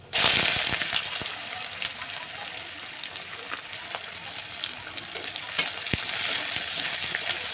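Chopped onion sizzling in hot oil with whole garam masala and dried red chillies, a steady bright frying hiss with occasional crackles and stirring clicks, close and continuous throughout.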